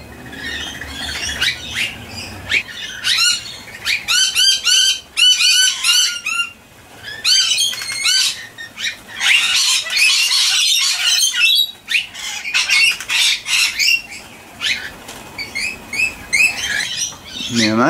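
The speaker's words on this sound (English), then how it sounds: "most of the noise these rainbow lorikeets make is when they're squabbling amongst themselves" Rainbow lorikeets squabble at a feeding spot, filling the air with loud, close, repeated shrill squawks and chattering calls in overlapping bursts, with brief lulls between outbursts and no talk.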